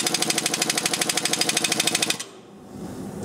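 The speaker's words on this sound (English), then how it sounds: "So now you need to tighten the nut." A nut being tightened on a strut spring compressor, a rapid, loud, evenly spaced mechanical hammering of about two dozen pulses that stops abruptly after two seconds, leaving a faint room background.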